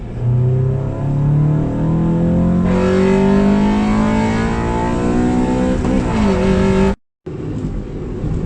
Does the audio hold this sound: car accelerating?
yes